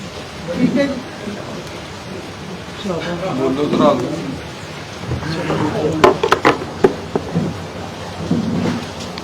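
Rain falls steadily during a gathering outside a political party office, with rumbling thunder and sharp cracks; people talk over the downpour throughout.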